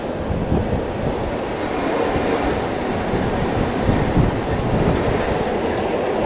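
Steady low rumble of a moving train on the Bernina Line near the Swiss border, heard from inside a carriage, with rolling wheel noise and faint rhythmic clatter throughout.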